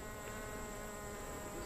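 Honeybees buzzing in a hive among capped brood cells, a dense, steady, continuous drone that fills the whole moment, close and even in level with no talking.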